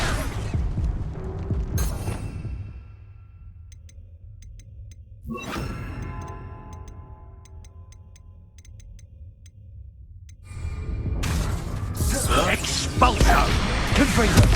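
An Expulso spell explosion in Hogwarts Legacy on PS5, with bursts of blasting noise and shattering crashes. Between them come quieter stretches with faint ticking and chiming game sounds.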